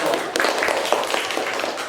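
A classroom of students applauds a student group after their presentation, a dense, steady clatter of many hands that runs the whole time at moderate loudness.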